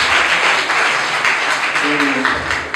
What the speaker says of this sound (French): Veuillez nous applaudir encore une fois.